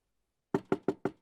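Four firm knocks on a wooden door, evenly spaced and close, following a brief silence in a quiet indoor setting.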